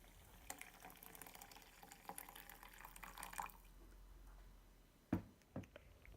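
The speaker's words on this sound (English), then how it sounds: "I'm going to fill my French press up about halfway with boiled water" Hot, just-boiled water is poured into a Bodum French press, giving a soft, steady trickle for about four seconds, followed by a couple of sharp clunks of the glass and lid. The sound is quiet overall.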